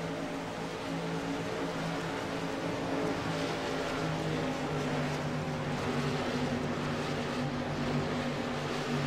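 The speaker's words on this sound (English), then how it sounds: "Nathan Miller and Tyler Stanley hit the throttle" Race cars roar off at a green flag start, a dense, steady wall of engine noise with layered throttle tones held loud throughout, no voices over it.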